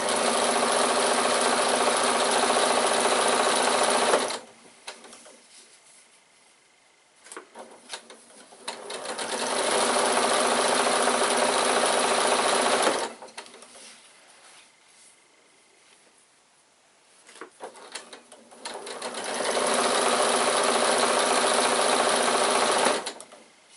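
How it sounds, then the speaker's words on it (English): Sewing machine stitching piping cord onto a bag, three long runs of fast, steady mechanical whirring close by, separated by quieter pauses with small clicks and handling noises. "Just sew to the end of your piping cord"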